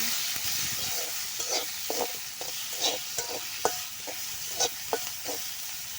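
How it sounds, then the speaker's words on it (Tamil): Tomatoes sauté with onions in a pan, giving a soft continuous sizzle broken by scattered scrapes and taps of a spatula stirring, with no voices. "தக்காளி சேர்த்தாச்சு நல்லா வதக்கி எடுத்துக்கலாம்"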